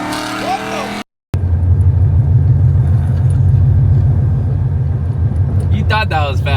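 A 700 hp Ford Mustang accelerating hard, heard from inside the car as a loud, continuous deep engine rumble and drone, after a brief cut, with voices talking before and near the end.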